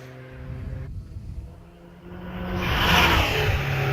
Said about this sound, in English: Got Rodney Isles in the Alfa Romeo 4C 1750 Turbo